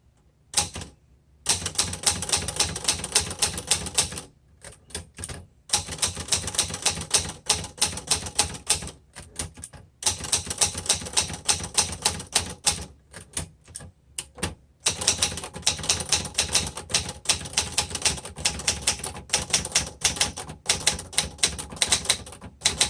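A 1966 Olivetti Underwood 21 typewriter being typed on, with rapid loud clacking keystrokes in bursts separated by brief pauses, close and without talk.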